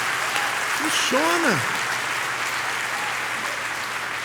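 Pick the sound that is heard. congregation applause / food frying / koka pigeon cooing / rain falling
congregation applause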